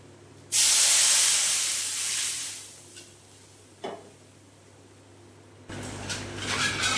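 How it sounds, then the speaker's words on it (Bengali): Water poured into a hot pan of fried-down taro curry, a sudden loud hissing burst of steam that tapers off over a couple of seconds, followed by quieter bubbling and clatter. "এবারে দিয়ে দেব পরিমাণ মতন জল"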